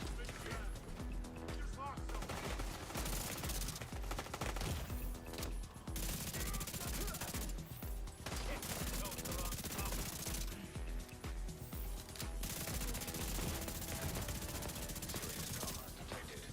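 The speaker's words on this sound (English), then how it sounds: "It's a heavy gunner in the back." Enemy heavy gunner hammering away with a machine gun in The Division 2, sustained rapid fire with brief gaps, loud and relentless, mixed with other combat noise and some talking.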